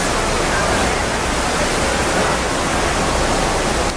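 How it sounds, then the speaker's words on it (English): Water rushes continuously from a large fountain at the memorial site in New York, a loud, dense, unbroken roar heard from nearby. "I hope you can hear me over the water. But this is the water fountain."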